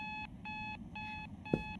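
A repeating electronic alarm beeping in the video game Photomaly, four even bursts in quick rhythm, clear and close over a low background hum with a small knock near the end.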